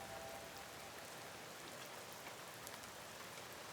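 Slow, gentle rain falls in a steady, even hiss with no other sounds, faint and distant throughout.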